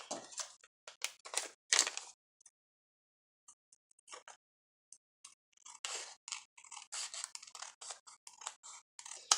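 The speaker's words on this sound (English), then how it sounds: "I'm going to cut across the top and down the side, and I'm going to stop at where this fold line is." Scissors cut across and down a paper envelope with a series of close, crisp snips in irregular bursts, broken by a brief pause in the middle.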